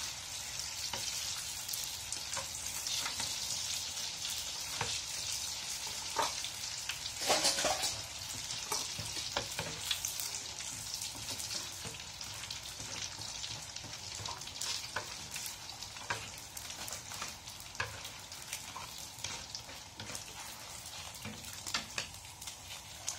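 Rice paper crackers fry in oil on a gas stove, giving a steady, dense crackle and sizzle that runs close and unbroken throughout, with occasional louder pops and no voices.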